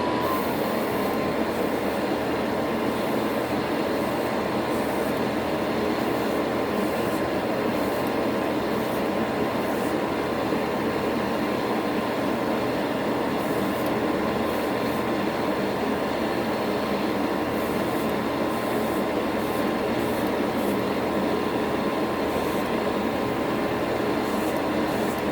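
A paint spray booth runs steadily throughout, a constant broadband whoosh of fan and airflow while model wheel nuts are painted in matt aluminium for a Fujimi 1/24 Ferrari 330 P4 kit, with no talking.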